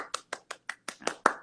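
One person claps hands alone eight times in a steady rhythm, the sharp claps close and fairly loud, building slightly toward the end.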